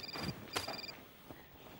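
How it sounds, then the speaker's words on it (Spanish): Landline telephone at a builders' business ringing with two short electronic bursts of tones, fairly close and moderately loud, followed by quieter room noise. "¿Dónde está el teléfono de las narices? Y yo qué sé, suena en tus interiores."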